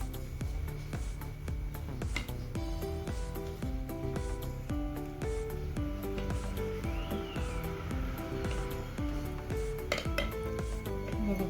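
A knife cuts through baked dal batti on a plate or board, giving close, repeated clinks and taps of the blade, with scattered scraping between the strikes.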